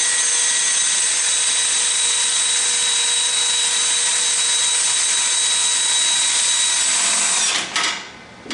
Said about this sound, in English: I keep all my drills sharp with the drill doctor.